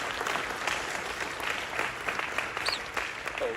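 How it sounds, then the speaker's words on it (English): Loud, continuous crowd applause, a dense rattle of many hands clapping at a steady level throughout. "now the claps are loud as shit"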